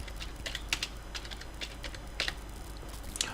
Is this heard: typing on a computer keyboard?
yes